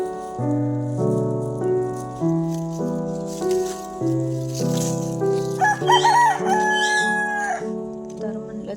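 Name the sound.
rooster crowing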